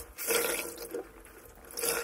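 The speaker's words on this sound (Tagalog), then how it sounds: "Sumasakit na yung kamay ko dyan sa kakapiga ng mahigpit." Water splashing and dripping as laundry is wrung out tightly by hand, a close, wet trickle that swells and fades in bursts over a couple of seconds, with no talking.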